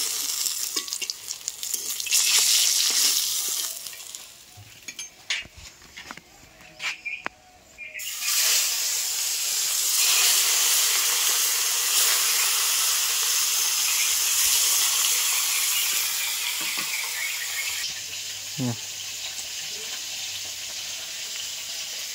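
Rohu fish pieces fry in hot oil in a home kitchen, giving a loud, continuous sizzle and hiss with brief clatters of stirring and lifting, and no voices.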